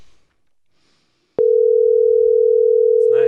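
A steady telephone dial tone starts abruptly after a brief click and holds continuously at loud level, with a voice breaking in just at the end.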